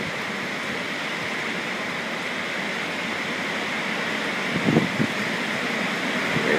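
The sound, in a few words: waves crashing on shore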